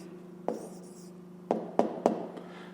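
Pen writing down the answer to a fifth-grade maths exercise on subtracting mixed numbers, heard as a few short scratching strokes and taps over a steady low hum, close and fairly quiet.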